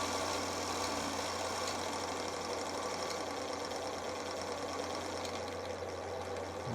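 Small electric motor turning slowly during an RPM sensor test comparing Hall effect and photo interrupter sensors, a steady close whirring hum that runs without pause, with no talking.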